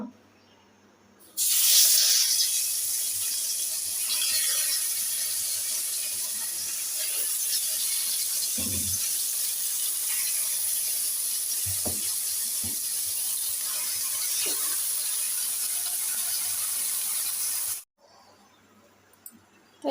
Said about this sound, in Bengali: তেল বসিয়ে দিয়েছি পেঁয়াজ কুচি দিয়ে দিচ্ছি